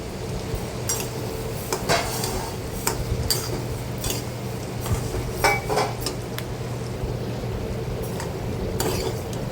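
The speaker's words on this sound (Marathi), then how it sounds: "थोडेसे राहिलेले धने मी परत कढईमध्ये टाकून घेते आणि तेही भाजून घेते" Coriander seeds roast in a kadhai over low heat, with light scraping stirs and scattered sharp ticks and clicks over a steady background hiss, no voices.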